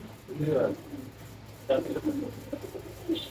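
Chinese and Giribaz pigeons coo in low, soft bursts close by, with a voice faintly audible underneath.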